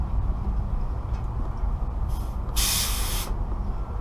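Air hisses out of a truck's air tank as the drain cable under a Mack is pulled, a short loud burst of rushing air over steady low engine rumble, with a faint brief hiss just before.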